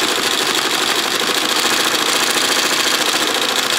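An embroidery machine stitches a large design in white thread onto the back of a jacket with a sharp needle, giving a loud, steady, rapid mechanical chatter that runs unbroken throughout.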